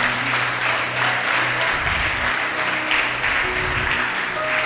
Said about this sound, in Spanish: Dale un aplauso ahí al Señor.